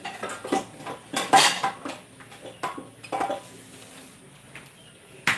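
A small cooking pot and other kitchenware clink and clatter during morning house tidying, a string of sharp metallic knocks and chimes at an irregular pace, close by, with quiet pauses between them.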